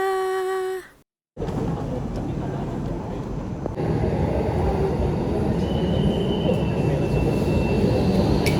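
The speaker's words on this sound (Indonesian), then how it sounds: "Oke, jadi ini dia kereta cepat WUS kita" After a brief tonal chime and a moment of silence, a high-speed train rumbles steadily into the station platform with rushing noise and faint wheel squeals.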